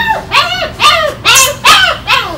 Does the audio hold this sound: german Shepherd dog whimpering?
yes